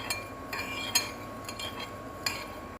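A spoon whisking whipping cream with vanilla essence in a bowl, giving a handful of light clinks and taps at uneven intervals over a quiet background, close and soft, with no talking.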